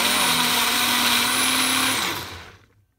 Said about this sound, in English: help the blender just kind of get moving